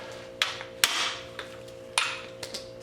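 A hammer strikes an impact driver to break loose the oil filter bolts on a Honda CB350/CB360/CB450 motorcycle: several sharp, close metallic whacks at irregular intervals, some ringing briefly, with quiet between.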